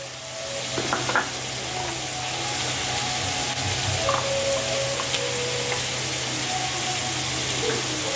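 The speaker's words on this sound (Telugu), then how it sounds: "ఇదిగోనండి మెంతులు వేస్తున్నాను" Fenugreek seeds dropped into hot oil in a pan while cooking menthula pulusu, making a steady, loud, continuous sizzle with a few faint clicks and pops throughout.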